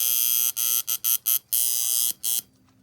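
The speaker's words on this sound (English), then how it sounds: "there's our alarm, by the way, viewers" A Westclox Big Ben Style 7 electric alarm clock rings with a loud, steady buzzing that cuts off several times in short breaks, then stops, leaving a faint hum.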